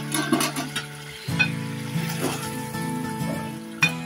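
Tomatoes frying in a pan over a high flame for a ridge gourd and lentil dish, giving a steady close sizzle with a few stirring clatters and bursts of spattering.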